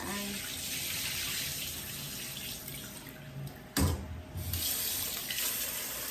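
Water runs steadily from a tap into a sink while jasmine rice is rinsed, with a brief splashy disturbance midway as the rice is moved under the stream.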